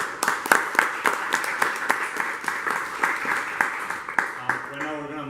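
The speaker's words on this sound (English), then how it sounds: "big round of applause to our speakers" An audience applauds speakers at a blockchain meetup in Kitchener-Waterloo, with sustained crowded clapping up close and a few sharp individual claps, fading out as a voice begins speaking.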